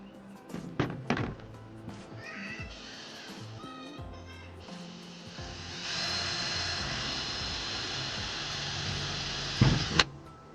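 A power tool cuts a hole through a van's metal roof for a roof fan, a steady loud whine sustained for several seconds after scattered knocks and short bursts, ending abruptly with a final thud.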